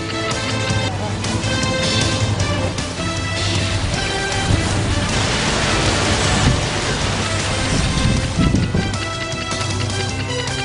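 Heavy monsoon rain falls steadily in West Godavari district, a dense, loud, continuous wash of downpour lasting about ten seconds with no voices.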